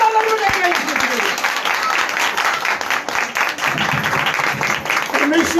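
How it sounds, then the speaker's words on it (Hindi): Sustained applause from a church congregation clapping for Jesus Christ during a Hindi-language worship service, steady and dense crowd clapping with a voice speaking briefly over it. "जोरदार ताली बजाइए यीशु मसीह के लिए।"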